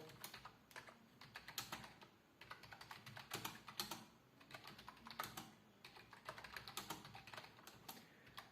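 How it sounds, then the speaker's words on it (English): Rapid typing on a Flipkart SmartBuy wireless keyboard clatters in uneven bursts of crisp key clicks, close and fairly quiet, with short pauses between runs. "let's try to type something over here"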